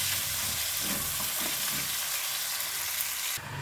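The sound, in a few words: chopped tomatoes frying in a pan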